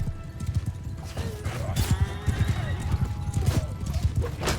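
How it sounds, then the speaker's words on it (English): Galloping hoofbeats of a cavalry charge in the video game Mount and Blade II Bannerlord pound in a fast, heavy rhythm, with a horse whinnying and shouts rising over the din of battle. "I heard those hoofbeats."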